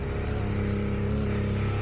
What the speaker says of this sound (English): You can hear that raspy noise within the engine, not so much the exhaust.